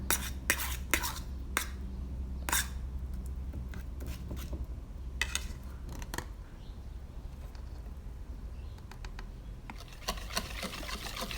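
Banana cake batter made with three mashed ripe bananas is stirred in a bowl, a utensil clinking and scraping against the sides in quick irregular bursts, close and moderately loud, with no talking.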